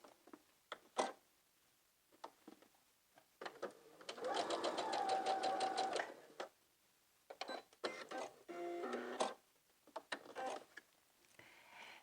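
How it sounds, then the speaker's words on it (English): Working on a McCall's 7906 sew-along, a sewing machine bastes a seam from one end to the other in a two-second run of rapid, even stitching. Softer short bursts and faint handling clicks come before and after it. "So go ahead and sew from one end to the other."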